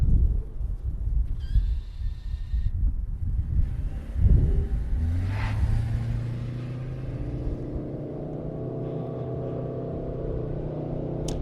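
A 2025 Toyota Sienna Platinum hybrid minivan pulls away, its engine note rising and holding as a steady rumbling drone that grows smoother, heard close from the cabin with no talking.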